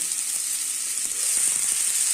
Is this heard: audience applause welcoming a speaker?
no